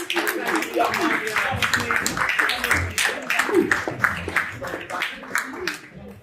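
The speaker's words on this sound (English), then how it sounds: "Give the little ones a round of applause." An audience claps for young children at a manhood academy rites-of-passage graduation ceremony, a steady, dense patter of hands that runs the whole way through with voices talking over it.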